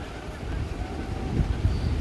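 Strong wind gusts across a pond during rain and cold weather, blowing as a dense low rumble against the microphone that builds toward the end.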